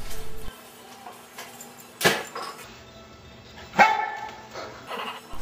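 A dog barks twice with sharp, close yips about two seconds apart, over a quiet indoor background.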